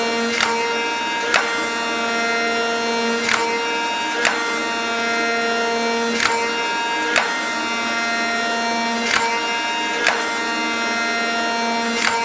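Metal shaper cutting on a faster feed rate, its cutter taking a deeper pass: a steady machine drone punctuated by sharp, evenly spaced clacks of each stroke, about one per second, close and clear with no talk.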